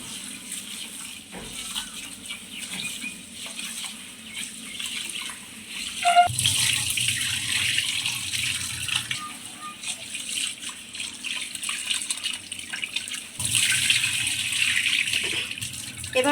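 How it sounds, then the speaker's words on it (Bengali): Rice is washed in a pot under a running tap for biryani, with a steady splash of flowing water that shifts and swells as the grains are stirred, heard up close. "চালটা ধুয়ে নিচ্ছি।"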